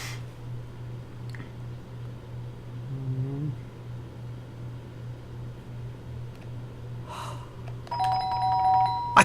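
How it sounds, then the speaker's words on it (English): A doorbell in a narrative video game rings twice, the chimes standing out clearly over a low steady hum and quiet room ambience, with no voices. "The doorbell went again"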